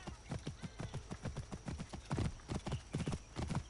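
Horse hooves gallop in a steady, rapid clip-clop rhythm in Assassin's Creed Origins, close and continuous throughout, with faint game ambience underneath.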